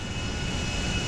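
Steady roar of a stolen jet aircraft's engine, loud and close, a continuous broadband drone with a faint high whine running through it and no voices over it.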